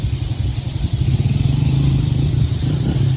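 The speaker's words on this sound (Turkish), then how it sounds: "Otobüs terminalının oradayız kızlar." Continuous engine rumble of vehicles at a bus terminal, a steady loud low drone of idling and passing motors with no speech, running unbroken throughout.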